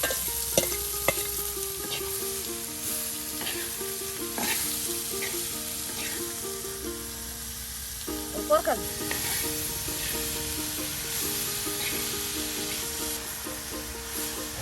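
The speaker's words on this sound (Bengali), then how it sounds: "এখন কিন্তু আপনার সেই লাউ কুচিগুলো এই যে তেলের সাথে দিয়ে দেওয়া হলো" Chopped bottle gourd sizzles and fries in hot oil as it is stirred and tossed, with steady scraping of the spoon amid the crackle, a rural village kitchen at iftar time, with a voice speaking over the cooking.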